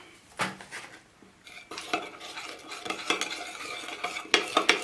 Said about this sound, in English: And start mixing all of it.